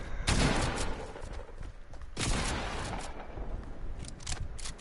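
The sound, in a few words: gunshots in a video game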